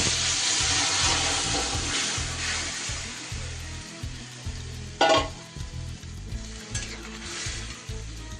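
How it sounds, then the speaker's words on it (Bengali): Gravy poured into a pan of fried neem leaves for a Bengali nim jhol with sweet potato sizzles loudly and steadily, with a sharp hissing burst as the liquid hits the hot pan and stirring scrapes throughout. "এবার আমি ঝোলটা দিয়ে দেব।"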